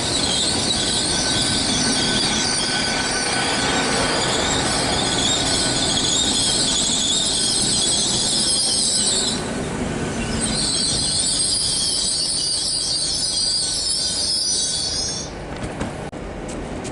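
A Great Western Railway Class 800 train rolls through Bath Spa station with steady wheel roar and high, sustained squealing from the rails, which breaks off briefly midway, returns, and then fades as the train clears.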